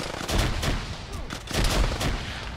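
Video game gunfire in Arma during a ShackTac session, including fire from an AGS grenade launcher: a dense run of sharp shots and bursts, some near and loud, others more distant, overlapping with no pause.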